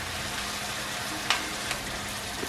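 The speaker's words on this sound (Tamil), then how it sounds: "இறைச்சியை மட்டும் திருப்பி விடுங்க. நல்லா பொரிஞ்சு வரும்" Beef pieces frying for a beef roast curry, a dense even sizzle with a couple of small clicks as the meat is turned, close and steady, no voices.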